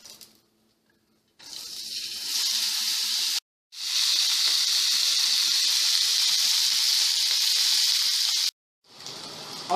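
Meat sizzling in a lightly oiled, covered pan for a stir-fry: a loud, steady hiss that runs for long stretches, broken by short silent gaps.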